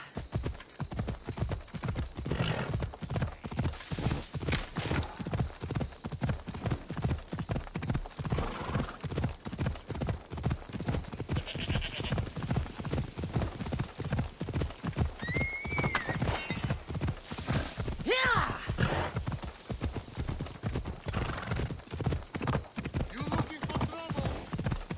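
Galloping horse in the video game Assassin's Creed Odyssey: a steady, rapid clip-clop of hooves runs throughout, loud and close, with several whinnies and neighs rising above the hoofbeats.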